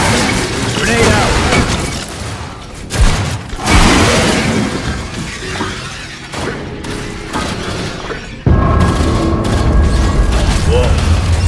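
A grenade detonates in the video game Aliens: Fireteam Elite, a loud boom with a rumbling, shattering tail. It is set among ongoing combat noise, other bursts and voices.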